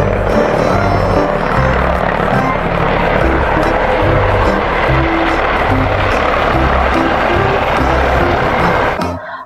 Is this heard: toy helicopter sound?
yes